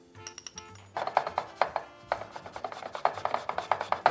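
Fresh ginger scraped rapidly across a grater in a home kitchen, a run of quick rasping strokes in a steady rhythm after a brief quiet start, close and crisp.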